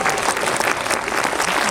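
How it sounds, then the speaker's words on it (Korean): Audience applause at a Korean film screening Q&A with a guest actor, a brief burst of dense, loud clapping from a crowd, with no talk. "우리 송중기 배우님의 코미디를 위해서 박수 한번 부탁드리고요"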